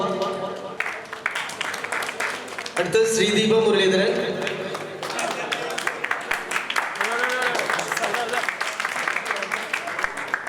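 Audience applause at a Chelakkara Lions Club Onam celebration runs steadily through the clip, with a brief louder swell, while an announcer speaks over it throughout.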